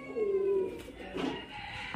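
High-flyer Giribaz pigeons give a soft throaty coo followed by a fainter second call, close by over light background noise.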